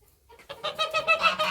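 A male goose calling on a farm, a series of rising, nasal honking cries in quick succession, close and growing louder over a second or so.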